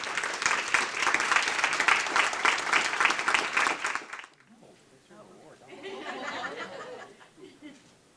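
Loud applause from a crowd at a business recognition breakfast fills the first half, then stops abruptly and gives way to quieter chatter and some chuckling.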